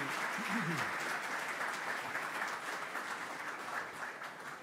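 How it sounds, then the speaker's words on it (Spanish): Audience applause at a business seminar for small and medium enterprises in Buenos Aires, a steady wash of many hands clapping throughout, with a brief voice near the start. "Le damos un aplauso."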